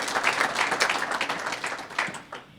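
An audience at a university hall of fame induction ceremony claps for the honorees, a moderate burst of applause with audible individual claps that tapers away after a couple of seconds.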